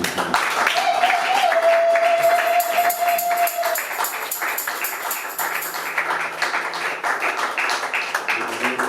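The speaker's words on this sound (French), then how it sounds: "Est-ce qu'on peut continuer à acclamer ces deux?" A church congregation applauds two people with sustained, loud clapping that fills the hall, a sung or held tone rising briefly above it early on before the applause carries on steadily.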